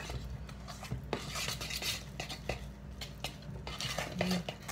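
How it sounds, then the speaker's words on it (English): A spoon or whisk stirring lemon yogurt cake batter in a mixing bowl, with soft scraping and intermittent clinks of utensil against the bowl, quiet and close, no talking. "I'm not over stirring it either, just making sure that it's all incorporated."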